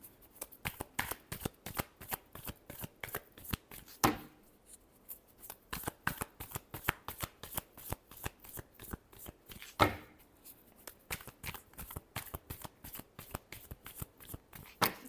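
Tarot cards are shuffled by hand in rapid, close, crisp riffles and slaps, repeated steadily with a couple of louder bridging snaps along the way.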